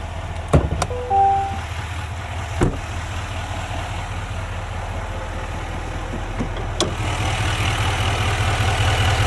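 A 2025 Chevrolet Silverado 2500 Trail Boss with its 6.6-liter Duramax engine idles steadily, a low constant drone with a few sharp clicks and knocks near the start.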